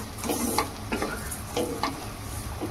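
Roasted broken rice being stirred in a pan with cooked onion and tomato, soft rhythmic scraping strokes over a low sizzle, close and unaccompanied by voices.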